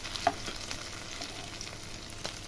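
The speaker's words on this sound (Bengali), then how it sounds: "একটা পাশ ভাজা হয়ে গেছে, এবার আমি এটাকে উল্টিয়ে দিচ্ছি।" Mutton fat fritters frying in hot oil and being turned over, a steady soft sizzle with a few light scraping touches, close and fairly quiet, no voices.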